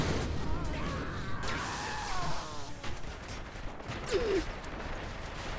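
Gunfire in the video game Saints Row The Third: scattered shots and impacts in a noisy game mix, with a brief sweeping whine and a short crack near the end, under a continuous wash of background game sound.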